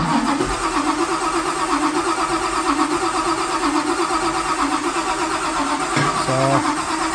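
A supercharged 1955 Chevy engine cranks over steadily on the starter to prime its oil, a continuous loud mechanical churn with no firing, ending in a short tonal whine near the end.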